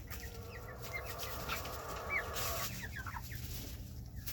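Chickens in a greenhouse coop cluck softly in short bursts over a constant background hiss, moderately near, with no talking.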